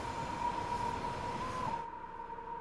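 A Pendolino train in the Train Sim World game rolls past with a steady rumble and a sustained whine, loud and close, then the higher hiss cuts off abruptly near the end while the low running noise continues.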